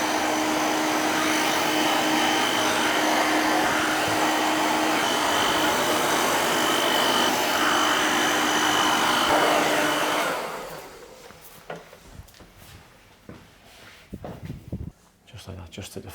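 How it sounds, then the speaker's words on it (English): Hair dryer on high heat and low speed blowing on curly hair during a barbershop haircut: a steady loud roar for about ten seconds, then it cuts off, leaving scattered handling noises and talk. "Dry it off to probably only for a few minutes now, just to get the curls to come back."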